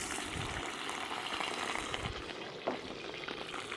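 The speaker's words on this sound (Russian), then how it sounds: "И обжариваем ее до темного румяного цвета со всех сторон" A bone frying in very hot oil in a kazan while making plov, a steady close sizzle and bubbling crackle with a brief clink partway through.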